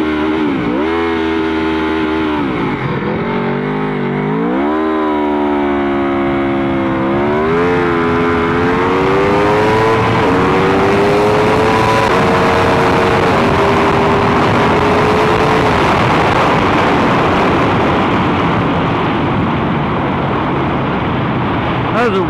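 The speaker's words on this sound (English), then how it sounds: "this is the first time I'm using the Aprilia launch control" An Aprilia RSV4 RF motorcycle launching hard with launch control, its engine held at high revs then surging through rising gear pulls, loud and close, roaring on into a sustained wide-open run.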